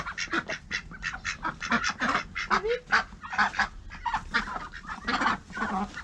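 A dense chorus of domestic duck calls, steady and loud, with many overlapping quacks and honks from a flock close by at a home garden pen, no talking.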